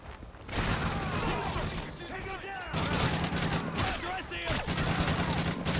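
Rapid bursts of gunfire in Modern Warfare 3 Spec-Ops Survival on the Underground map, loud and repeated across the whole stretch with overlapping shots and game effects, while voices talk underneath.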